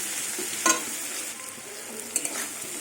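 Banana stem (thor) fries with garlic and pumpkin in a pan, giving a steady hiss of sizzling under occasional scrapes and stirring clatters.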